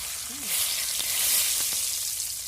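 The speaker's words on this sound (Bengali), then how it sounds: "এবার আমি তেজপাতাটা দিচ্ছি" A bay leaf drops into hot oil in a pan for a Bengali-style chicken curry, making a continuous close sizzle with a few sharp pops and crackles.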